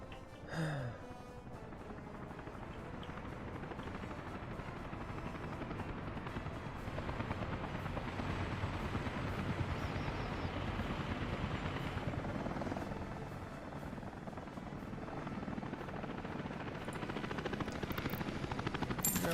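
A helicopter in the city-building game Workers & Resources: Soviet Republic whirs with a steady rotor thrum that holds throughout, moderately loud and alone.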